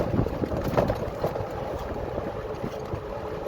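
A boat pushed to full throttle on open water, with broadband engine and hull rumble mixed with strong wind buffeting on the microphone, steady and close throughout.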